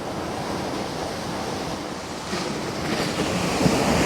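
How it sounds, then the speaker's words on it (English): Large ocean waves at high tide roar steadily in a dense, continuous wash mixed with wind buffeting, with the surge growing slightly louder toward the end and no talk. "the waves right now are huge. It's a high tide right now"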